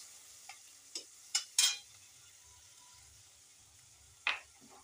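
A paste of ginger, onion and green chili fries faintly in a pan, a soft steady hiss broken by a few sharp scrapes and taps of a spatula.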